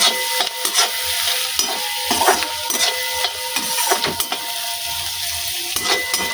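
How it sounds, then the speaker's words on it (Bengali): Onion, green chilli and cauliflower frying in a pan, a steady sizzle broken by repeated scraping stirs of a spatula against the metal, close and clear with no talk. "তো এটা এখন লাল লাল একটু ভাজা, পেঁয়াজ লঙ্কা আর এই ফুলকপি"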